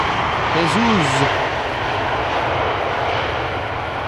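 A KLM Airbus A330-200 arriving from Vancouver lands at Amsterdam Schiphol Airport, its engines roaring steadily at a distance while someone talks over the sound.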